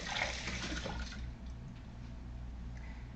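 Running tap water rinsing a knife in a home kitchen: a steady, fairly close wash of water with a brief splashier start, continuing evenly throughout.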